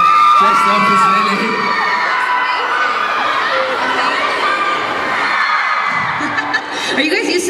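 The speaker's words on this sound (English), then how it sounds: "Are you guys used to these screams yet?" Fans at a mall tour event scream and cheer loudly and continuously, a dense crowd of high-pitched shrieks and whoops with shouting voices mixed in.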